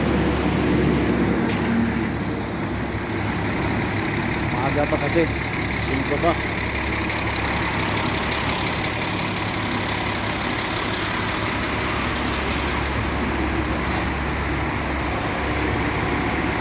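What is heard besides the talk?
buses idling at a bus terminal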